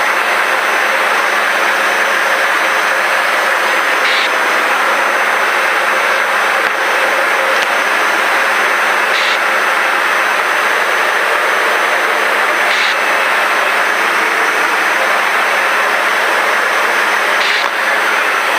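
Steady loud drone of the twin engines of a Diamond DA42-VI aircraft during descent at 48% power, a constant close cabin roar with faint periodic clicks and no talk.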